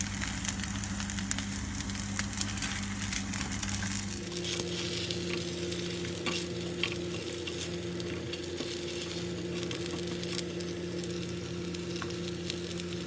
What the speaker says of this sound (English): really it's just basic frying